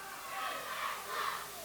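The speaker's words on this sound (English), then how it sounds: "listen to this crowd in Kilkenny" A fired-up wrestling crowd in Kilkenny at an Irish Whip Wrestling show, cheering and roaring in swelling waves, fairly loud and continuous without a clear voice on top.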